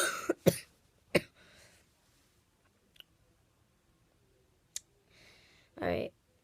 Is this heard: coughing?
yes